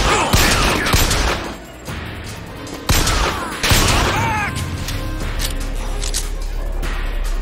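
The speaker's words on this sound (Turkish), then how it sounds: "Silah tepiyor." Video game gunfire in BioShock Infinite, rapid bursts of shots with crashes and impacts in a dense, loud battle mix, with a voice talking now and then.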